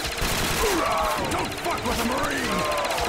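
Upgraded weapons blast away in a Call of Duty custom zombies match, dense rapid gunfire running continuously and loud, mixed with pitched whistling effects while players talk over it.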